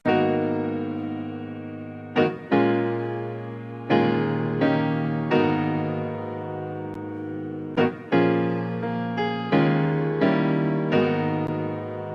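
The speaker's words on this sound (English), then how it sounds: "I did find this piano sample from Splice and I ended up chopping it up." Original piano sample from Splice: a sequence of sustained piano chords struck one after another, each decaying before the next, with a few quick grace-note strikes, played alone.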